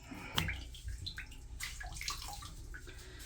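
Water trickles and splashes into a bath as bleach-treated tie-dye fabric drains, a steady wet patter with a brief louder splash near the start, no voices.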